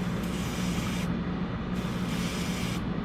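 An airbrush or spray can sprays clear white paint onto a 1/12 scale Porsche 917K model kit, a steady close hiss that cuts out briefly in short pauses between passes.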